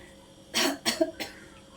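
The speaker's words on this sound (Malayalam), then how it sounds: "ചുമ വന്നു" Three sharp coughs in quick succession, close and fairly loud, with quiet in between and no talking.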